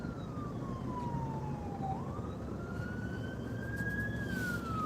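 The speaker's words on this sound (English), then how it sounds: "Another ambulance, huh?" An ambulance siren wails outside, sweeping down and then back up in pitch as it passes, clear but somewhat distant over a steady low background rumble.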